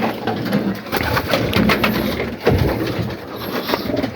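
Young pigeons coo close by, a dense overlapping stretch of soft, throaty calls with some rustling and fluttering mixed in.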